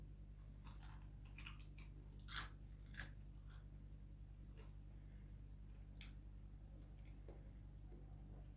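Crunchy ruffle-cut fried potato fries with garlic yogurt sauce being chewed, with several distinct close crisp bites and crunches spread through a quiet stretch without speech.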